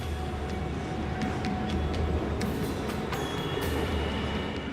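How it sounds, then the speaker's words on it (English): Inside a carriage of Bangkok's Sky Train metro, a steady low rumble and hum of the moving train, with faint rattles and clicks scattered over the constant drone. "I'm riding the Sky Train,"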